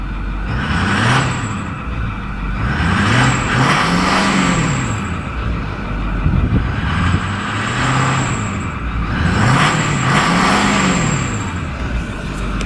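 A 2008 Ford F350 Super Duty King Ranch with a Powerstroke diesel engine revs repeatedly, each throttle blip swelling and falling in a rhythmic pattern, loud and close with a turbo whistle riding on top.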